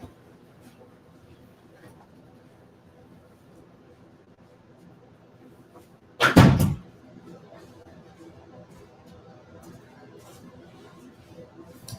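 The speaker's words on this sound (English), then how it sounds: "I had to close my door because I'm filming." A room door shuts once with a single short thud midway through an otherwise quiet indoor stretch, faint room tone before and after.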